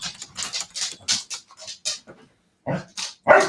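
A dog yips, barks and whimpers in short excited bursts, fairly close and loud, with scratchy patter between the calls.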